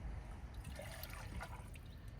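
Quiet trickling of water being poured into a Jetboil camping stove pot, a soft continuous stream close by with no voices.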